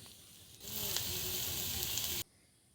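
Mutton sizzling loudly in a hot pan as it is stirred, a steady crackling hiss that starts abruptly, holds for under two seconds and then cuts off.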